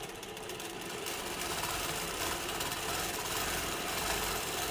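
A sewing machine runs steadily through free motion quilting of pebble shapes, a continuous even whirring hum with no pauses, moderately loud and close.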